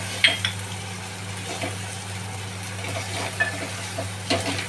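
Red chili powder, coriander-cumin powder and garam masala are sautéed and stirred in a pan for a Konkani-style val bean dish, a steady low sizzle with occasional spoon knocks and scrapes against the vessel.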